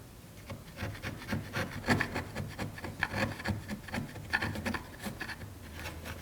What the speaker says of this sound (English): Scrape it down with my chisel, again, just to make sanding easier.